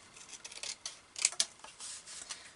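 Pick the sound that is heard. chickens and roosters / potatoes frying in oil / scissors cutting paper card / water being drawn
scissors cutting paper card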